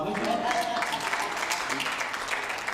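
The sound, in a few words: applause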